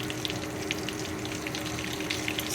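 Mushrooms fry in onion-flavoured oil, giving a steady dense crackling sizzle with scattered pops that stays even and fairly quiet from start to finish.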